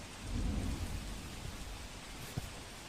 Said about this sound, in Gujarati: ગાજવીજ સાથે વરસાદી ઝાપટું પડતા ઠંડક પ્રસરી છે